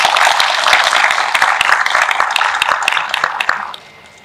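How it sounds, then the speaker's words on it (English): An audience at a 2021 ROTC spring commissioning ceremony breaks into dense, crisp clapping that carries on steadily before tapering off abruptly near the end. "Please join me in a round of applause for these great leaders."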